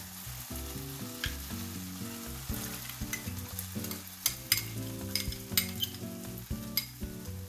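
Tomato puree mixed with a milk paste sizzles steadily in a frying pan while a spoon stirs, scraping and tapping against the metal in irregular strokes, close and without talk.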